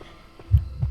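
Heartbeat warning cue from the Identity V video game, two deep low thumps in quick succession, moderately loud with a faint hum beneath and no voices.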